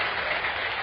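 A packed audience breaks into sustained applause at a Tamil political speech, a dense, even wash of many hands clapping, loud and steady throughout the short burst with no voices rising above it.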